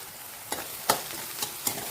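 Manchurian ingredients with finely chopped onion frying in a pan, a continuous close sizzle punctuated by four sharp scrapes of a spoon stirring.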